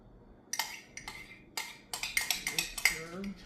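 Granola being mixed in a bowl after a coating is poured over it: a run of light clinks and scraping knocks of a utensil against the bowl, fairly close and quiet.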